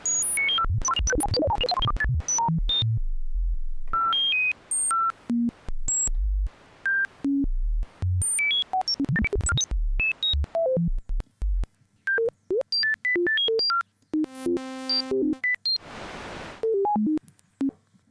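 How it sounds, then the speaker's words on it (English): A Roland SH-101 analog synthesizer sends out sharp, scattered blips and tones whose pattern keeps shifting in speed as the LFO rate is adjusted, ending in a stepped, buzzing sweep. "Then adjusting the rate of the LFO"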